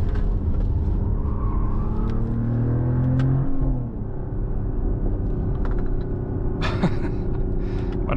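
Artificial engine sound piped into the cabin of a 2025 Mercedes-AMG GLE 53 Hybrid Coupe, a loud steady low rumble and drone that holds for several seconds, eases slightly midway and keeps going without talk.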